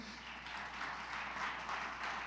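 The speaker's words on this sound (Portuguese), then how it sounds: "Queria que você aplaudisse ao Senhor pela vida do Adriano" A church congregation applauds during a celebration service, a faint, steady wash of many hands clapping heard from a distance, with no voices over it.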